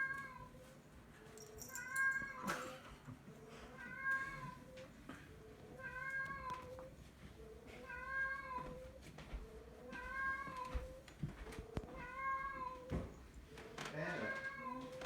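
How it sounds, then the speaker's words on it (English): A cat meows repeatedly indoors, a steady string of short, fairly quiet meows at regular intervals, with faint background voices and household noise. "Oh, the meowing?"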